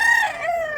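A big three-year-old mestizo rooster in Mantalungon, Cebu crows once, a loud, close, wavering call that holds steady then drops in pitch toward the end.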